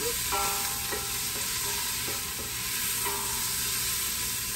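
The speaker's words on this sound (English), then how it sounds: "I'm going to wait till these onions are sauteed down" Onions sautéing in a pan, a steady close sizzle with occasional scrapes and knocks of stirring, no talking.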